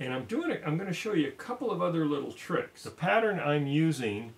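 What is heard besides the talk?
No everyday noises stand out.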